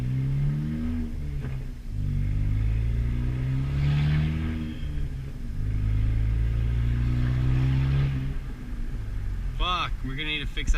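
A 10th-generation Honda Civic Si with a catless downpipe revs loudly with a deep, rumbling exhaust note that rises and falls in surges, close by, with a sharp crackle near the end.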